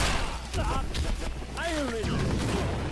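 Gunshots in a fighting video game with characters such as Kratos and Leon, a few sharp blasts mixed with game effects and swooping tones while a player talks over the action.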